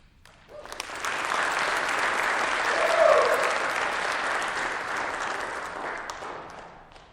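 An audience applauds at a high school arts recognition event, a dense, steady wash of clapping that swells to a peak midway and then slowly tapers off.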